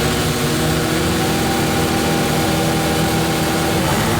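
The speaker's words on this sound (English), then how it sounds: "the bikes are on the grid. The revs are up." Loud, dense engine roar of several racing motorcycles on the starting grid fills the whole stretch, motors running together at high revs, steady and close.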